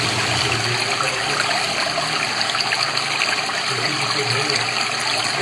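Running water pours in a steady, continuous rush, loud and close, with an even hiss that holds unchanged throughout and no talking.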